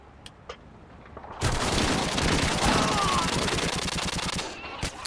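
Rapid automatic gunfire crackles in a Search and Destroy match. A few faint distant shots come first, then a loud, sustained burst of fast rhythmic fire lasts several seconds before stopping, with a final shot at the end.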